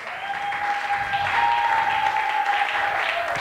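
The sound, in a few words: congregation applauding the Lord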